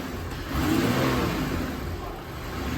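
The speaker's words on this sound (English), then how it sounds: "you hear the engine revving behind me" A car engine revs up and holds a loud, rough drone, then eases slightly, heard nearby with no talking.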